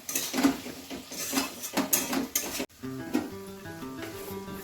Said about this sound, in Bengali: আদা রসুন বাটাটা দিয়ে ভালো করে কষিয়ে নিয়েছি।